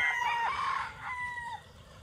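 A single rooster crows nearby, a bright drawn-out call lasting about two seconds over low background noise.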